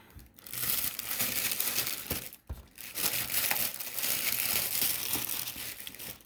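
Plastic packaging for Icewind Dale Icons of the Realm miniatures is torn and crinkled open, a loud, close, continuous crackling with a short break midway and no voices.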